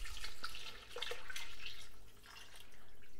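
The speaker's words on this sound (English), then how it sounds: "after about 15 minutes of cooking, I'm just adding in the water" Water flows into a pot of wild garlic and nettle soup, a soft splashing and trickling pour that swells and eases in two waves, fairly quiet and with no talk.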